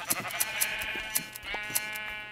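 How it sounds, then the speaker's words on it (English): Sheep bleat in a video game while their wool is gathered, with several short, clear bleats close by among sharp, repeated clicking effects, and no talking. "we'll just go ahead and gather all the wool from these sheeps here"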